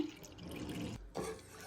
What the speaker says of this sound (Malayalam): ഒപ്പം തന്നെ അര ഗ്ലാസ് വെള്ളം കൂടി ഒഴിച്ചു കൊടുക്കുവാണേ